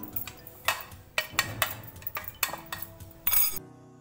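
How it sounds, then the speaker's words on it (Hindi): A spoon clinks and scrapes against a bowl while mixing sweet-and-sour zeera goli ingredients, with irregular sharp taps and light scraping close by and no talking. "इन सबको आप खूब अच्छी तरह से चम्मच से मिला लें, कोई लम्स ना रहे"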